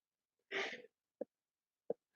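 A single sharp human sneeze bursts out close and loud, followed by two brief quieter breathy sounds, with no talk.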